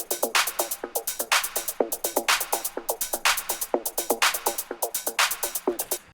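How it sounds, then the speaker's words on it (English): A saturated melodic techno clap drenched in heavy reverb, sharp hard-hitting hits repeating in a steady loop with long washy tails, and no voices. "the most important one is the clap to get this typical hard-hitting sound in melodic techno"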